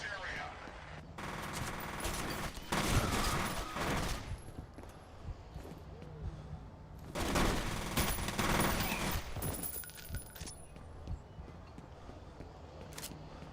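Machine gun fire from the video game F.E.A.R. 2 rattles out in rapid bursts separated by short pauses, loud and close, with quieter in-game sounds between volleys.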